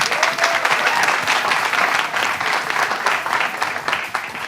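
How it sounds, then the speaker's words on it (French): Sustained applause from a crowd for a dance group, dense steady clapping that stays loud throughout with no voices standing out. "on applaudit pour eux"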